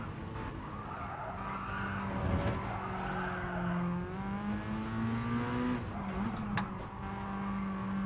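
A race car in Gran Turismo Sport revs and shifts gears with rising and falling engine tones, while tires squeal and skid through corners, loud and continuous.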